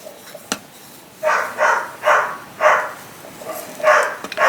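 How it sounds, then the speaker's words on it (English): A distressed dog barks in a series of about six upset, yelping bursts at a steady pace, fairly close, with no talk over it. "I am so sorry for that dog."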